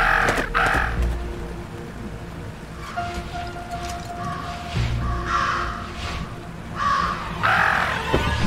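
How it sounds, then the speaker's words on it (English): Crows caw in the game Jenny LeClue, several harsh calls spread across the scene over a busy ambient game background, fairly close and moderately loud, with no talking. "About a murder of crows."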